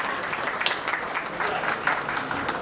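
An audience at a technology conference applauds a speaker being introduced, a steady burst of clapping heard close and continuous.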